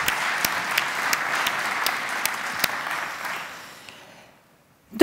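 Applause from a conference audience at a 2013 web services summit: scattered sharp claps over a steady wash that gradually fades out into silence.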